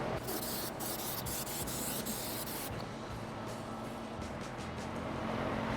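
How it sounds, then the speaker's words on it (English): Carbon choke cleaner is sprayed onto a Flathead Ford engine block in a steady, continuous hiss that is fairly faint and close, running unbroken throughout. "spray it down now with this carbon choke cleaner just to get it all cleaned up good"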